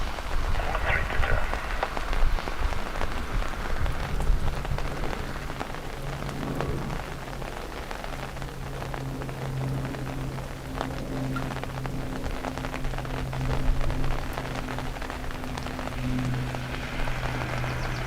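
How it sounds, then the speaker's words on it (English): Rain patters steadily on an umbrella at Dublin Airport, a close continuous drumming with low aircraft engine hum and someone speaking intermittently underneath. "The rain sound off the umbrella makes you feel like you're in a tent."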